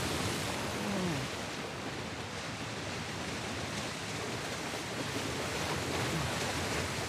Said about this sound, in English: Oh, flowing water.